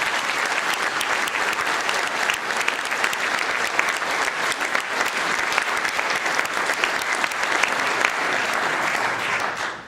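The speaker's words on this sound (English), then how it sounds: "that, my friends, deserves a round of applause" Sustained audience applause for a colleague marking his 30th year with the Maryland State Bar Association, dense and steady throughout at an installation ceremony, fading out at the very end.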